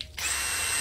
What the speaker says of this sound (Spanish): Necesitamos un taladro.